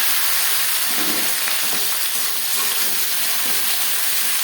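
Three tomatoes and seven or eight onions drop into hot oil with a bay leaf in a large kadai, setting off a steady, close sizzle and hiss that holds evenly throughout with no talking.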